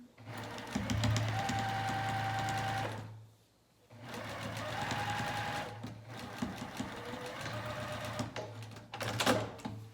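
A sewing machine runs in two long, steady bursts while back stitching a pajama pant seam, with a short pause between them and a faint click near the end.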